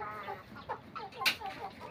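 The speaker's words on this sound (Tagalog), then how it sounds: "Ito po mga manok palabong yung iba dito." Backyard chickens, including native jungle fowl (manok labuyo), cluck in short, close, irregular calls, with a sharper squawk near the middle.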